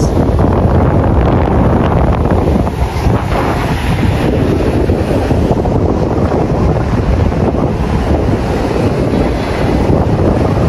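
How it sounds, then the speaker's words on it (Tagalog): A strong rushing water current heard outdoors, a loud continuous roar of churning water mixed with heavy wind buffeting the microphone throughout, no voices. "Lakas ng agos."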